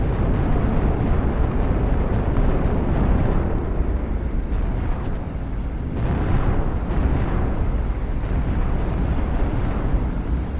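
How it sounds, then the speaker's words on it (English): Moons slamming into Earth in a video game set off a dense, continuous rumbling roar of explosions, loud and steady throughout with swelling surges and no talk. "I destroyed Earth with the moon. No problem."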